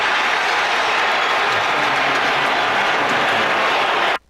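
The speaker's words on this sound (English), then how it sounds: "Listen to that crowd, that Eagle crowd going down there to Baltimore." Eagles fans in Baltimore roar after a Saquon Barkley touchdown in a broadcast recording, a dense, loud, continuous crowd wash that cuts off abruptly.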